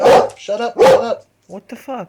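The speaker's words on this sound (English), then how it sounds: "That's my dog." A dog barks sharply twice, close and loud, with a voice reacting in between during a podcast recording.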